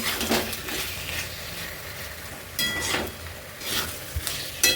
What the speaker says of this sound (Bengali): আমি কাসুরি মেথিটা দিয়ে দেবো, দিয়ে একটু নেড়ে চেড়ে তারপরে আমি জল দেবো।